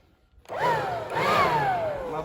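Powerplus POWEG9013 leaf blower switching to suction, starting abruptly and then whining steadily with rising and falling motor pitch, close and fairly loud, no talking over it.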